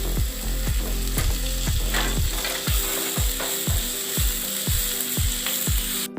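Chopped tomato and curry leaves fry in a pan for an egg masala, a constant sizzle broken by regular, evenly spaced scraping ticks of stirring, close and steady with no talk.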